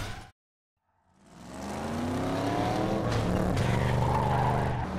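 A car driving fast in Driver: San Francisco: after a brief silence the engine swells into a loud, sustained high-revving roar with some tire noise.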